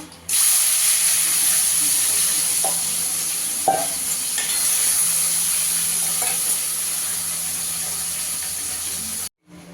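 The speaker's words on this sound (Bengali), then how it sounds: "বাকি মাছগুলো ভেজে নেব।" Pieces of fish fry in oil with a steady, close sizzling hiss that runs nearly unbroken. A few soft clinks and stirs stand out, and the sound cuts off briefly near the end.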